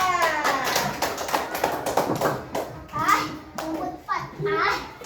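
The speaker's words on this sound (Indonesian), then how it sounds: "Beri tepuk tangan untuk kelompok 4." A group of children clapping in a quick, uneven burst, with young voices chattering and calling out over the applause.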